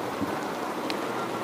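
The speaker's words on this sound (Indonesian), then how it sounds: "Hujan" Steady rain hisses across a broad band, a soft continuous wash with no voices, fairly close and even in level.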